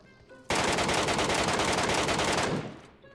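Sustained automatic gunfire in the video game PUBG Mobile: a loud, rapid burst lasting about two seconds after a quiet start, then fading out.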